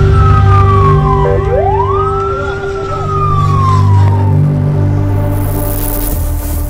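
An ambulance siren in Gaza wails loud and close, its pitch sweeping down then rising and gliding again, over a heavy engine rumble with no talk.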